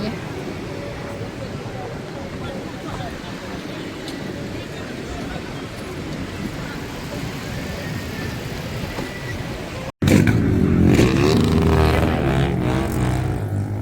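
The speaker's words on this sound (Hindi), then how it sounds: "कहाँ तक गाड़ियाँ लगी हुई हैं" Traffic of cars and motorbikes queued outside a festival at Al Ashkhara municipality park in Oman, a steady near roar of engines and road noise that grows louder and closer toward the end, with people talking over it.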